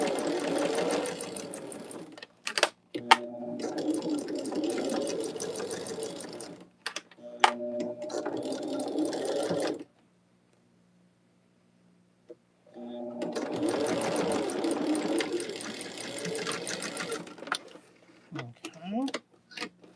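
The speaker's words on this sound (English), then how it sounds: "And then take it to the machine and stitch." A sewing machine stitches a quilt block in long, loud, close runs of rapid mechanical whirring, broken by short stops and one long quiet pause before it starts again.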